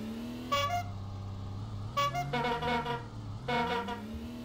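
Car horns from the racing video game BAFL - Brakes Are For Losers honk in short bursts, several distinct toots spaced over a few seconds above a steady engine drone, fairly close and clear.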